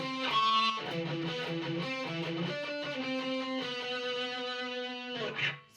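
A distorted electric guitar plays a short shred riff of picked notes, ending with a squealing pinch harmonic, clear and alone with no talking.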